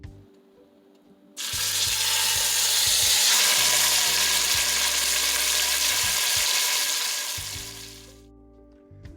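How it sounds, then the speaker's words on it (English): Meat hits hot oil in a pot for a one-pot roast dinner, erupting into a loud, steady sizzle that holds for several seconds before easing off, close and alone. "we're now going to add the meat to the pan. And you want to hear this nice sizzle sound when you do so."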